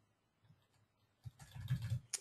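Keys on a computer keyboard clatter in a short, quiet burst of typing after a near-silent stretch, the taps close together and fairly soft.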